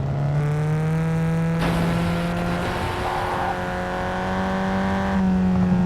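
A car driven in the mobile game Gangstar Vegas holds a steady synthetic engine drone, with its pitch stepping up and down as it accelerates, and a brief scrape partway through.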